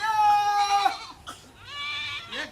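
A castrated goat in a rural setting lets out a loud, close, wavering bleat, followed after a short pause by a second, softer bleating cry.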